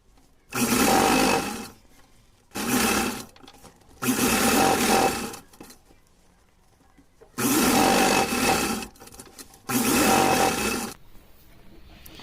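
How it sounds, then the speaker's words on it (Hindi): A sewing machine runs in five separate bursts of roughly one to one and a half seconds each, loud and close, with quiet pauses between them. It is stitching the edges of a small Laddu Gopal dress. "ऊपर से यहाँ किनारे किनारे सिलाई लगा देंगे ताकि इसकी क्रीज अच्छे से बनी रहे।"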